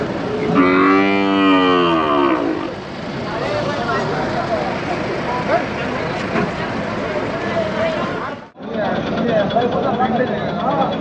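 A loud, drawn-out bull moo rings out close by near the start, followed by busy crowd chatter and an idling engine at the Chakan cattle market.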